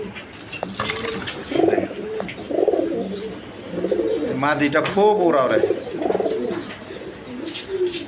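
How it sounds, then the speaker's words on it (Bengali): Satin pigeons kept as a nesting pair on two eggs coo close by in low, rolling phrases, while someone talks intermittently over the calls. "এক পেয়ার চুইটাল হাই ফ্লাইং গিরিবাস কবুতর আছে দেখেন দুইটা ডিম নিয়ে বসে রয়েছে"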